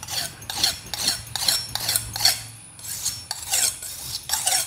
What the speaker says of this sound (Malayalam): ഇനി കത്തി ഒന്ന് തേക്കട്ടെ കേട്ടോ,